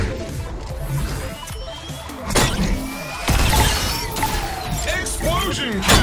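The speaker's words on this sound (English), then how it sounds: "Explosion kill, yeah!" Explosions in the VR shooter Robo Recall, set off by a rocket launcher, land as sharp crashing bursts with shattering debris. A spoken voice and scattered game effects play between and over the blasts.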